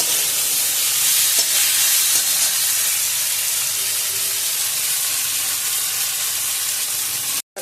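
Masala sautéing in a hot pan gives a loud, continuous hissing sizzle that holds steady close by, with a few faint knocks, before an abrupt cut near the end.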